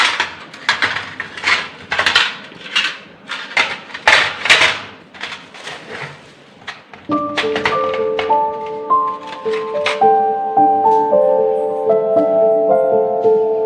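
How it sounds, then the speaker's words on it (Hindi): Plates and spoons being washed in a basket: first half brings a run of sharp, irregular clinks and taps of metal and dishware up close, then the clatter eases under a steady tonal music background. "तो चलो अभी भोजन थाल और चम्मच को धो लेते हैं"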